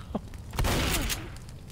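Gunfire in the co-op zombie shooter Left 4 Dead: a short, quiet burst of rapid shots clustered mid-clip, with a faint sharp crack just before it.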